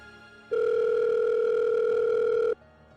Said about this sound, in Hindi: मैंने मेरा मोबाइल लिया और ये सपना बताने के लिए राज को कॉल किया